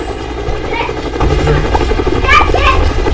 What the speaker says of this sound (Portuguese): O helicóptero dele tá mal bugado.